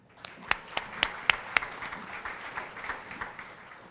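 An audience at a regional transportation priorities event breaks into applause, opening with a few sharp, distinct claps that blend into a softer, scattered round of clapping.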